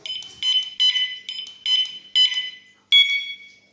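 Six or so sharp electronic beeps from a carp fishing bite alarm, high-pitched and close, each short and evenly spaced with brief gaps between them.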